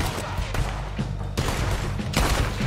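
Gunfire in Red Dead Redemption 2 during a shootout, a dense burst of overlapping shots repeated several times in quick succession, loud and close with a dull rumbling background throughout.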